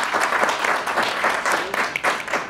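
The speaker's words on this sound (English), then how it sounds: "I say round of applause for that" Lively audience applause during a film Q&A session, with close, dense clapping and a few sharper individual claps that stay strong through a short burst.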